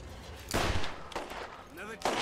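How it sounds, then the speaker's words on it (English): An acid pistol fires in the video game Borderlands, two or three sharp, close gunshot bursts with a hissing, bubbling tail, under a player's talk. "swinging it up here now with this acid pistol."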